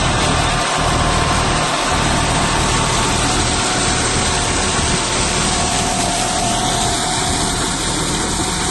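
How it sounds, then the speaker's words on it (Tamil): A 30 HP vehicle engine drives a water pump bought from Ajith Engineering in Rajkot, running steadily and loudly with a constant low rumble and broadband hum throughout, with no speech over it. "வண்டி இன்ஜின் வந்து 30 HP இன்ஜின் தான் வண்டி இன்ஜினு. ரொம்ப நல்லாவே ஓடிட்டுருக்கு."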